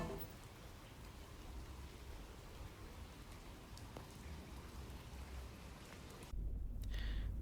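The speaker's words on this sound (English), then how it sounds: "The raindrops falling onto the windshield sound almost like the static noise you hear on TV." Raindrops patter steadily onto a car windshield in a continuous soft hiss like static, faint and even throughout, with a low engine rumble swelling near the end.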